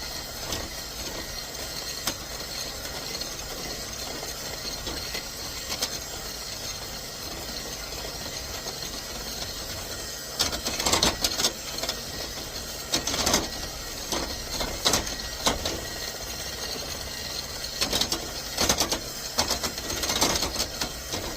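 Steady mechanical hum of a food dehydrator and freeze dryer running continuously, with a constant drone and occasional rattling clatters partway through.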